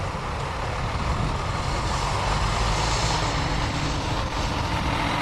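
A coach rolls past at a bus show, its engine a continuous loud, low rumble and road roar that holds close and steady for several seconds with no talk over it.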